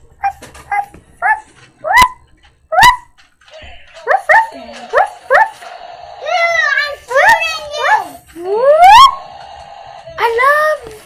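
A child imitates a puppy's whimpers, yips and barks with the voice, a string of short rising and falling cries close to the microphone with brief pauses between them.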